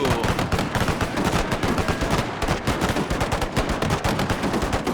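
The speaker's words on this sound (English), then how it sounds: "Put me back on the Gatling." A Gatling gun firing nonstop in a Total War battle from the Anglo-Zulu War, a loud, rapid rattle of close shots with a few brief gaps.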